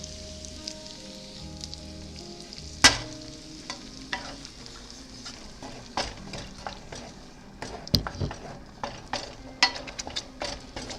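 Strained tomatoes hit a hot pan of garlic and salt for pizza sauce, sizzling and frying steadily with a sharp splash at the start and stirring scrapes and clatters throughout, close and moderately loud.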